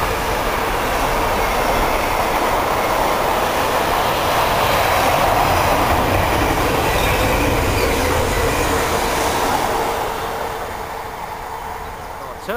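A Freightliner freight train passes near Needham Market, a loud, continuous rumble of rolling wagons with rhythmic wheel clatter and occasional metallic squeal, fading slightly toward the end.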